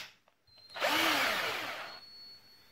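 An 18V Ferton cordless drill with a faulty trigger whirs up close for about a second, then winds down. It is a loud motor whine with a pitch that slides, and a faint thin tone lingers before and after.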